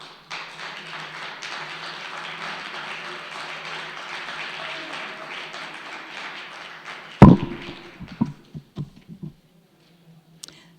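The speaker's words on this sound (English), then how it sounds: "Please give them a round of applause." An audience at a Democrats club meeting applauds the district leaders with about seven seconds of steady, even clapping, which ends in a sharp thump followed by a few scattered taps and near silence.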